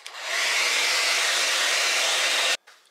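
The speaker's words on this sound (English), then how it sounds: "we warm the gloves up with the hair dryer" A hair dryer on warm and high blows a steady, loud whoosh across ski gloves for a few seconds, then clicks off abruptly, leaving a short fading tail.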